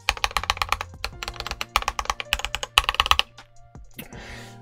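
Typing on a Skyloong GK61 Pro prebuilt 60% mechanical keyboard with 1.5–1.6 mm thick keycaps: close, crisp clacking keystrokes in quick bursts with brief gaps, ending with a short rattle.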